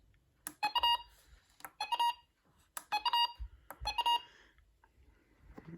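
A series of short electronic button beeps from a 12-262 or 12-521 radio scanner in quick clusters, crisp and close, with brief pauses between bursts and small button clicks.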